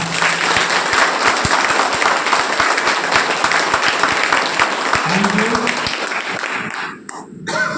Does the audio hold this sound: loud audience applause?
yes